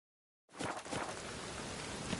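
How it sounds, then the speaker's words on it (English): Video game rain starting abruptly and then falling steadily, a dense, hissing patter that keeps on evenly throughout. "The rain will ruin it."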